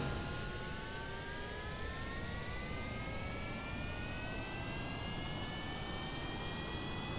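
A plane's jet engine in Kerbal Space Program roars steadily, a loud continuous whine with rising tonal pitches over broadband rumble, alone without talking.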